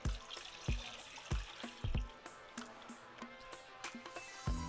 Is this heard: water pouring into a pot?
yes